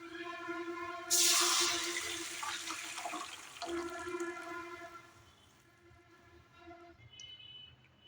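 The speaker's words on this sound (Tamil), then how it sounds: "இப்போ நம்ம கூட்டி வச்சுருந்த இந்த மசாலாவில் ஊற்றிக்கலாம்." Liquid is poured into a spice masala while cooking, a sudden splashing gush that starts abruptly, stays loud for a couple of seconds, then fades, over a steady hiss and hum in the background.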